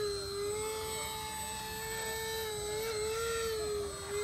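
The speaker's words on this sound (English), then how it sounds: "Now we have to do a vertical takeoff." The small motors of a Banana Hobby V-22 model aircraft whine at a steady pitch during a vertical takeoff, a thin continuous tone heard at moderate distance without any talk.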